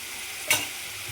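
Homemade chicken curry cooking in a pan, giving a soft, steady sizzling hiss with one brief scrape of a spoon near the middle, close and quiet, without talking.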